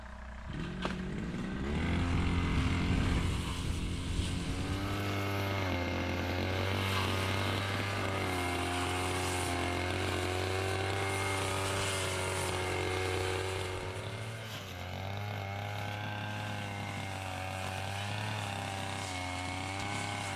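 Small grass cutter engine running steadily with a droning buzz, close and fairly loud, a brief revving swell early on then an even idle-like hum throughout.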